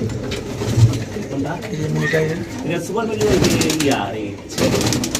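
Racing pigeons coo close by in soft, throaty, repeated calls, with people talking nearby over the birds.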